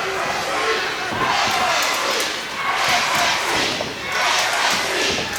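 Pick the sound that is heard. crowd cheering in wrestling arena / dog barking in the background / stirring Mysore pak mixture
crowd cheering in wrestling arena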